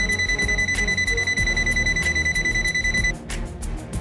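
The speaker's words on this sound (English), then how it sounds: "buzzer sound when voltage is sensed." An ANENG AN113B digital multimeter's non-contact voltage buzzer beeps rapidly and loudly in an even pulsing rhythm when voltage is sensed, then cuts off near the end, leaving a short noisy rustle.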